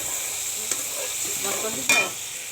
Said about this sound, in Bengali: মাছটা একটু নেড়ে চেড়ে দেখব সিদ্ধ হয়েছে কিনা।